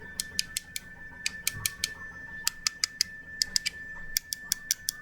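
A home printer working in the background, giving sharp, rapid mechanical clicks and ticks in irregular bursts over a faint steady whine.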